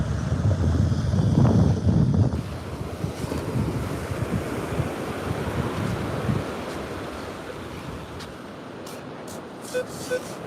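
Ocean waves and surf at Bean Point Beach wash in as a steady broadband roar with wind buffeting the microphone. It is loudest and fullest in the first two seconds, then settles into a constant, slightly quieter rush with no talking.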